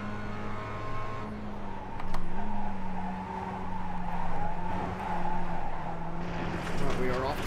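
A Mazda MX-5 Cup race car sliding off the track at Summit Point in a racing sim, the engine note dropping and wavering as tires scrub, with a voice talking over it.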